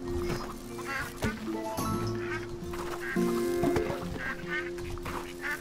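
Farm ducks in the game Farm Together quack and honk repeatedly in an irregular flock chorus, close and fairly clear, with steady game-ambience tones beneath.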